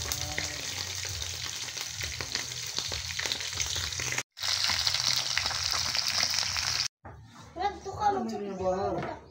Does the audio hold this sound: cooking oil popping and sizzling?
yes